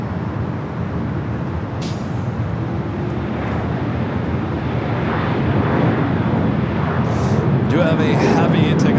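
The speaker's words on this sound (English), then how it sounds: "Do have a Heavy taking off on the south side. That is American Airlines Flight 2321 heading to Chicago O'Hare, a 787-9 Dreamliner." American Airlines 787-9 Dreamliner jet taking off at LAX, heard as a broad steady roar from a distance that slowly builds in loudness, with a voice talking over it and a few other faint noises.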